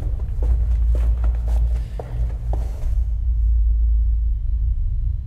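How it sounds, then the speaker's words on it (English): Footsteps in the video game Vernon's Legacy thud in a quick series of soft, dull steps over a deep, constant low rumble, then stop as the rumble carries on alone. "You can almost like hear footsteps if you put your volume loud enough, you'll be able to hear footsteps"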